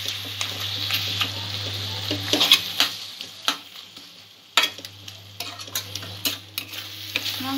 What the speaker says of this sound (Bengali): মাংসটা মশলার সঙ্গে ভালো করে কষিয়ে নেব